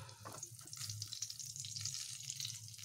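Oil poured generously into a pan, a close, steady hissing sizzle with a low hum underneath, continuous and moderately quiet throughout.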